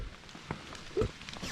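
Light rain sprinkles on the Appalachian Trail in Pennsylvania in fall, giving a faint, brief patter of scattered drops with one slightly sharper tap.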